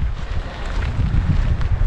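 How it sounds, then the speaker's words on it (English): Wind buffeting a microphone outdoors in Alaska in summer, a steady low rumbling gust throughout with no other sounds. "Just a little bit of wind."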